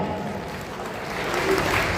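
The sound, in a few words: loud applause welcoming the MLA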